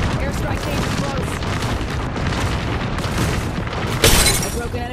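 Dense rumbling barrage of airstrike blasts in the Apex Legends battle royale game, loud and continuous across the whole stretch, with a sharper crashing impact near the end and game voice chatter mixed in.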